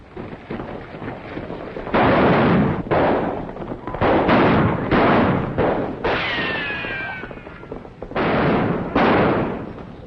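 Gunfire in a 1938 western film: a run of loud, sharp shots with echoing tails, fired in several separate bursts over about ten seconds, with a brief ricochet-like whine in the middle.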